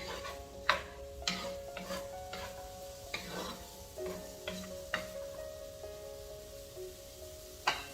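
Vegetables sautéing in a pan for chicken fried rice, with green peas and mushrooms among them: a low steady sizzle broken by repeated clinks and scrapes of a utensil against the pan, spaced irregularly and close up.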